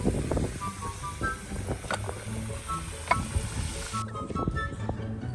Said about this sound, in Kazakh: Майға қуырып жатырмыз осылай картошканы кептіріп алып